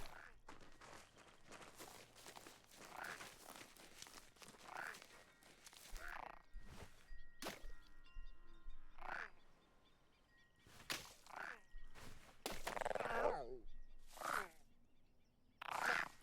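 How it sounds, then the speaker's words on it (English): A large frog croaks in the video game The Unfinished Swan, repeated deep rasping croaks at a fairly regular pace, close and clear over quiet game ambience and faint clicks. "that is a much larger frog than I was expecting"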